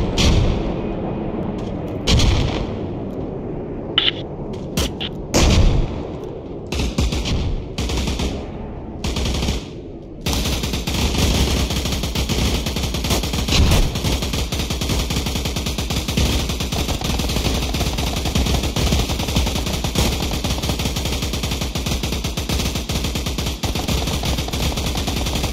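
Machine gun fire opens in sharp separate bursts, then merges into a loud, dense, unbroken roar of gunfire that holds steady to the end.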